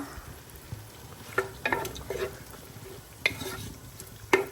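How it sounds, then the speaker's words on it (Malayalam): Ginger garlic paste sautés in a pan, a soft low sizzle broken by a few sharp clinks and scrapes of a spoon against the pan, fairly quiet and without talk. "ഇതെല്ലാം കൂടെ ചേർത്ത് നന്നായിട്ടൊന്ന് വഴറ്റിയെടുക്കുക"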